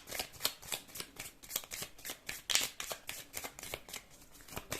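A deck of cards is shuffled by hand for a card reading, producing quick, soft riffling bursts in a steady rhythm, close and fairly quiet.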